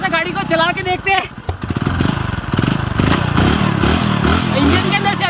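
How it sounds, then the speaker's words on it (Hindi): A motorcycle engine, reportedly running on water with calcium carbide and making a strange internal noise, idles with a steady, rough, pulsing chug close by while a person talks over it. "इंजन के अंदर से अजीब सी आवाज आ रही है"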